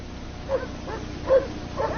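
Sled dogs in the Arctic give a few short barks and yips, three spaced bursts over a steady background hum from an old 1940s documentary recording.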